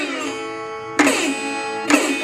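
Guitar slide on the first and second strings in a Delta blues style, a sustained twangy tone gliding down from high to low and then struck again twice in sharp attacks, played alone and close.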